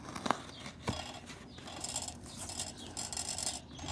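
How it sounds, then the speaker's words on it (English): Knife blade slicing into a cardboard shipping box during an unboxing, with scratchy rasping drags and a couple of sharp pops as the tape and flaps give way, close and fairly quiet. "All right, we're gonna cut into this box."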